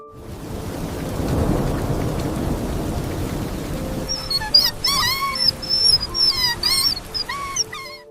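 Tiny newborn puppies, eyes still closed and shivering, let out a run of thin, high whimpers and yelps in the second half, close by over steady pouring rain and rumbling thunder of a storm on the street.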